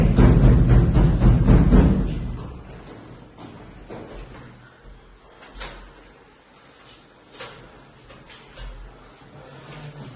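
A door is worked open during a police raid, heavy scraping and rattling loud at first, then softer knocks and clunks trailing off unevenly.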